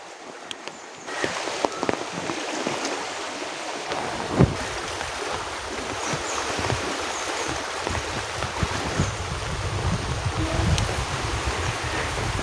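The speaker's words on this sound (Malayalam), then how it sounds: "ഇവിടെ ഈ തോടുകളിലൊക്കെ ഇങ്ങനെ നിറഞ്ഞ് വെള്ളം ഒഴുകുന്നുണ്ട്." Floodwater rushes steadily through brimming streams at Panangad in Kozhikode, a continuous broadband roar of flowing water that stays close and loud throughout, with a few brief knocks and splashes.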